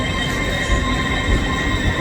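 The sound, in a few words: GWR train departing the station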